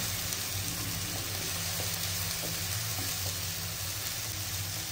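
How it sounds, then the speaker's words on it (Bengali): Onions fry in oil in a pan for a rui fish curry with bean seeds, a steady, even sizzle with a low hum underneath and no talking. "পেঁয়াজ ভাজতে ভাজতে বাদামি রং চলে এসছে।"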